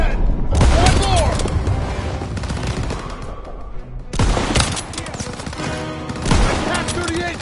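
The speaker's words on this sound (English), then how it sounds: "Everyone open fire!" Dense bursts of rifle and machine-gun fire from the World War II shooter Call of Duty WW2 rip through a battle in two loud volleys split by a brief lull, with scattered booms and no clear talk.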